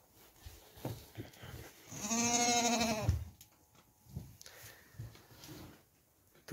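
Goats with newborn kids in a farm pen bleat. One long, clear quavering bleat sits close in the middle, and fainter bleats and rustling are spread around it at a low level.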